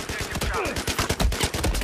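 Rapid automatic gunfire from a U-100 MK5 light machine gun in Battlefield 4, a dense, loud, continuous burst of shots with an even rhythm for nearly two seconds, no talk over it.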